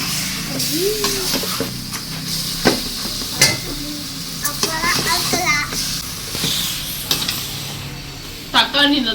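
Tomato thokku sizzling as it is stirred in a pan, with scraping spoon strokes and soft frying hiss running steadily, close by; faint voices murmur in the background.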